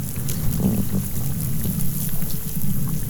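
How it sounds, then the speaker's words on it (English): Snapping shrimp crackling underwater offshore, a dense continuous fizz of tiny clicks forming a steady background hiss, with faint low rumbling beneath. "we can still mostly hear a snapping shrimp background sound"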